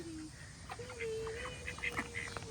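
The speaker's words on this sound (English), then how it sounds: "Release the duckies!" Ducks at a fair quack and honk in short repeated calls, fairly close, with a low steady tone and faint background murmur underneath.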